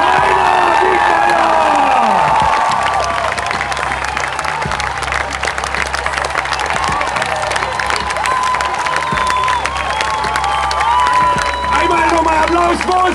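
A large crowd at the VfB season opening cheers and applauds the team coaches, loud continuous clapping mixed with whoops, shouts and high-pitched voices throughout.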